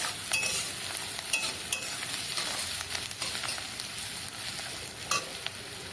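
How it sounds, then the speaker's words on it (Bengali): Chopped garlic and onion being stirred and fried in a pan for ribbed gourd mash, a continuous close sizzle broken by sharp scraping clicks of the spatula against the pan. "এবার একটু ভালো করে নেড়ে চেড়ে নিতে হবে।"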